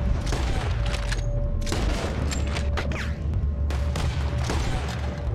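Repeated gunfire in a Red Dead Redemption 2 shootout, loud and dense bursts of shots crackling over a constant low rumble of game sound, with no talking.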